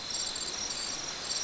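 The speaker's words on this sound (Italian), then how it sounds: "se no ci sono i grilli" Crickets from a relaxation sound app, a steady high-pitched chirping trill that continues evenly without pause.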